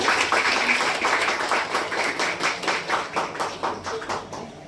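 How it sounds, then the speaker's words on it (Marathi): Loud applause from an audience at a ceremony welcoming the chief guest, dense clapping that thins into a rhythmic, steady beat and fades toward the end. "जोरदार टाळ्या वाजल्या"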